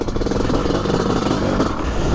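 A 2022 Honda 500 CR motorcycle, ridden off-road through ruts, with its engine revving loudly and continuously up close, a dense, rough, rasping roar with no one talking.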